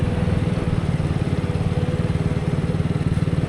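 A Vespa scooter engine runs steadily close by, a loud, rapid and even putter with a throbbing low rumble that holds for several seconds with no one talking.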